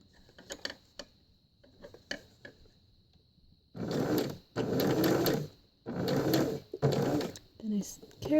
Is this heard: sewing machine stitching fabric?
yes